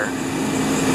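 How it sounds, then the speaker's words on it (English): Cold air from the climate control of a Mercedes W123 blows strongly out of the center vents, a steady, loud, even rush of fan and airflow. "blowing strong out of the center vents"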